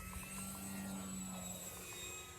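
A Dynam PT-17 ready-to-fly RC plane with a badly out-of-balance propeller drones steadily overhead, a continuous buzzing engine and prop whine at moderate distance with no voices.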